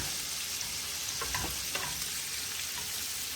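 Shrimp fry in butter in a hot pan for shrimp scampi, giving a steady, close sizzle with a few brief crackling bursts near the middle. No one talks.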